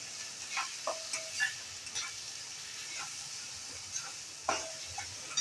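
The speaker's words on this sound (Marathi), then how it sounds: "आता हा कांदा छानपैकी परतून घेऊया." Onions sizzle steadily in hot oil in a pan, with occasional scrapes and clicks of stirring over the constant frying hiss.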